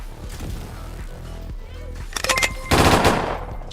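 Gunfire in The Division 2, with loud, near bursts of rapid shots toward the end over continuous game noise and music.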